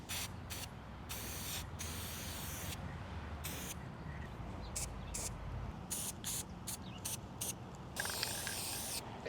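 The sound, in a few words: spray painting furniture hardware with gold gloss spray paint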